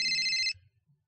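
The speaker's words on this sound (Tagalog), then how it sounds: "Saan ba yung nagre-ring na yon?" A mobile phone ringtone gives a bright electronic trill for about half a second, then cuts off abruptly into near silence.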